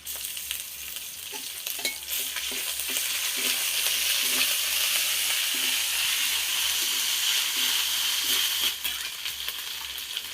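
Ginger paste frying in hot oil for khichuri, a steady loud sizzle lasting throughout with the scrape and clack of a spoon stirring it in the pan.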